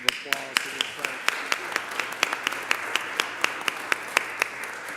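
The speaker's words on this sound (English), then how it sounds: "give a round of applause to these folks" A city council meeting audience breaks into applause, with steady, rapid, crisp claps spread across the room at moderate volume.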